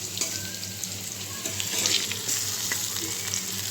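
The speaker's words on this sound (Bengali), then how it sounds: "এখন কলিজাটুকু ভেজে নেব একটু।" Goat liver frying in hot oil in a pan, a close, continuous crackling sizzle with bursts of sharp pops and spatter throughout, and no talking.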